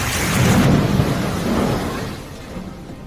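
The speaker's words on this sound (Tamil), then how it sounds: "மேக வெடிப்பால் ராமநாதபுரம் மாவட்டத்தில் வெளுத்து வாங்கிய கனமழை." A heavy thunderstorm with cloudburst rain in Ramanathapuram district, loud rumbling thunder over a dense, steady roar of downpour that fades slightly toward the end.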